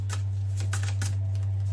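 Tarot cards being shuffled up close in a rapid burst of papery riffles and flicks over a steady low electrical hum.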